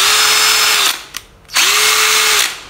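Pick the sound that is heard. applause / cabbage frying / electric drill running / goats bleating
electric drill running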